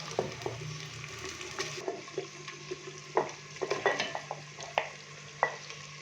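Soft sizzling of boiled beef frying in a pan for a turnip-meat dish, with scattered clicks and scrapes of stirring over a low steady hiss.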